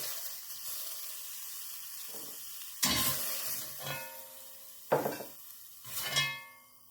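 Beef pieces browning in a frying pan for bœuf bourguignon, a soft steady sizzle with several louder bursts of hissing and stirring as pieces are turned or moved.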